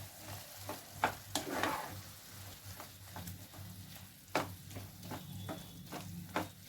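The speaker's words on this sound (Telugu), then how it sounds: "ఆయిల్ వేసుకుని కలుపుకోవాలి కొత్త సిమ్లు పెట్టుకుని మూత పెట్టుకోవాలి కలుపుకోవాలి ఇలాగా" Chili pickle mixture of ripe red chilies being stirred in oil in a pan, giving repeated scraping and clinking strokes over a low steady hum, moderately close and fairly quiet.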